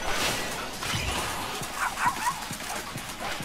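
Dogs yelp and bark in a chaotic animal fight in the video game Tokyo Jungle, with several sharp, short yips rising over dense, noisy scuffling and thumps.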